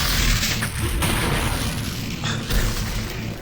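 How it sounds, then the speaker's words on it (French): A grenade blast in the VR shooter Half-Life: Alyx, a loud booming explosion with rumbling low-end debris that stays dense and sustained for several seconds, with no speech over it. "c'est une grenade sur moi en fait."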